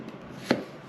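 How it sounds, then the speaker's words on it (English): A kitchen knife, a 7-inch santoku, slicing zucchini very thin on a board, one crisp single cut landing sharply in a quiet moment. "Cut off the stems, cut off the back, and then you just start slicing"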